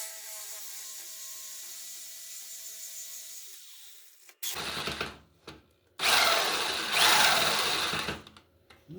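Power saw cutting through the rear fender struts of a Harley-Davidson Softail chopper project, coming in as two loud bursts of buzzing, grinding cutting after a stretch of quieter mechanical whirring, with brief pauses between cuts.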